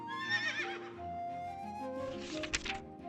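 A horse neighing sound effect, a clear, close whinny with a rising and falling tone and a short snort-like burst near the end, fairly quiet with no talk.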